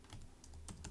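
Fingers tap a computer keyboard in a quiet room, a short run of soft, close key clicks with a couple of sharper strikes near the end.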